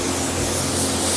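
Spray gun atomizing paint onto raw plastic, a steady close hiss of compressed air and paint mist holding at even loudness throughout.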